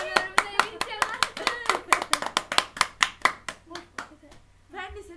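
A quick burst of hand clapping, roughly a dozen sharp claps in fast rhythm that slow and fade, with a voice briefly heard at the end.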